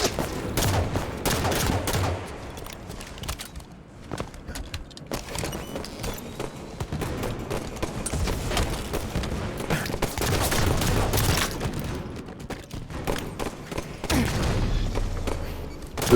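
Grenade explosions and gunfire in a competitive multiplayer video game match: irregular bursts of shots and thumping blasts scattered across the whole stretch, moderately loud and layered, with commentators talking over the action.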